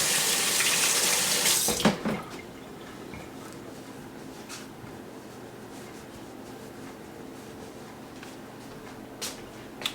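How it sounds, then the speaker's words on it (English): A kitchen tap runs in a loud, steady gush while hands are rinsed, shutting off after about two seconds, followed by faint drips and small clinks. "give my hands another rinse."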